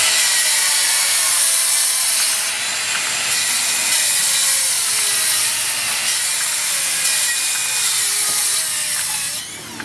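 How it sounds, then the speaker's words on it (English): Makita rear handle circular saws, a 40V model and an 18V x2 model, make cross cuts through wood: a loud, sustained high whine of the blade biting through the board, with slight dips between passes and a drop at the end. "So let's look at the three of them in some cross cuts."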